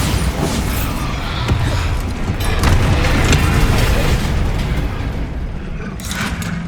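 Bombarda spell explosion during Hogwarts Legacy combat on PlayStation 5: heavy, booming blasts merge into a dense, loud roar of battle noise that lasts the whole stretch.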